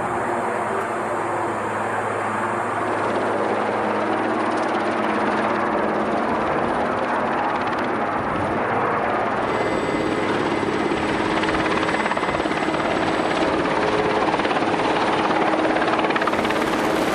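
A helicopter strains overhead while lifting heavy hydraulic pump power packs during a salvage operation on the ship M/V Kodima, its loud rotor and engine roar steady and unbroken throughout.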